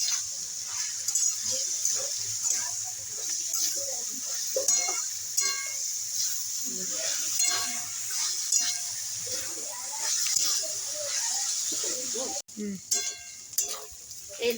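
Snake gourd stirred in a pan with fried coconut and poppy seed paste, a soft sizzle with intermittent spatula scrapes and taps, fairly quiet and close.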